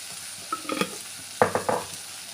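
Onions with Himalayan pink salt are stirred in a pan for a puri sabzi curry, a faint low sizzle broken by a few close spoon-against-pan scrapes and taps, with no one talking.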